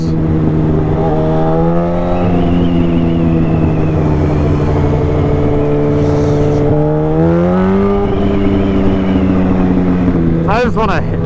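Yamaha R1 sport motorcycle engine revving hard while riding, a loud steady high-pitched drone that climbs and dips with throttle and gear changes, close up with wind noise throughout.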